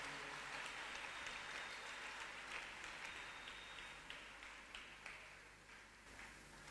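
A church congregation at a Bible seminary applauding together, a dense sustained wash of clapping heard from within the room, fairly faint, thinning slightly toward the end.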